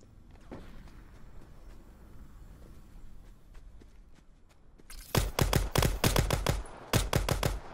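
After a quiet stretch of faint game ambience and soft steps, a close, loud volley of video-game gunfire breaks out, sharp shots in quick succession with a brief gap before a final cluster.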